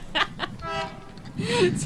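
Train noises in the walking game A Walk Up Killiney Hill, with a short rising horn-like toot near the end over a busy rumbling background and a few brief bursts.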